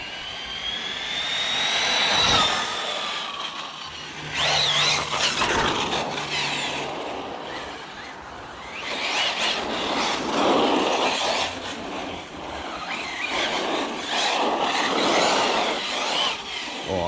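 An ARRMA Talion 6s RC car's electric motor screams at full throttle, a loud high-pitched whine rising and falling as it runs past outdoors, with brief pauses between sustained bursts.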